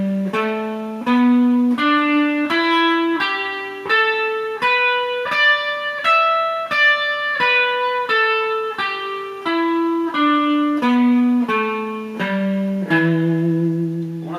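Electric guitar running a minor pentatonic scale from the root up to the octave and back down, about sixteen evenly spaced single notes rising then descending, clean and sustained, close and unaccompanied.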